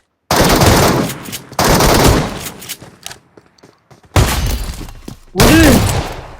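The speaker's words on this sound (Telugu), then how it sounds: "షార్ట్ గన్ అది" Four loud, close shotgun blasts ring out in a multiplayer shooter video game, each a sharp burst with a short ringing tail, spaced unevenly with brief quieter gaps between.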